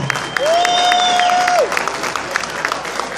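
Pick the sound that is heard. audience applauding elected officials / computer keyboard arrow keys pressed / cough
audience applauding elected officials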